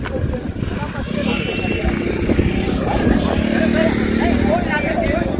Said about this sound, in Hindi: और ये बाइक लेके आ गए भाई लोग ऊपर।